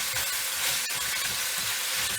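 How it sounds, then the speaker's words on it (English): Turkey neck being stirred with a spoon in a pot for Jamaican-style brown stew, giving a steady close sizzle and hiss of cooking with soft scraping movement throughout. "just take your spoon or whatever and just turn it around like that"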